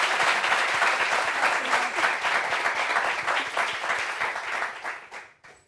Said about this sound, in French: Applaudissements pour ce vert,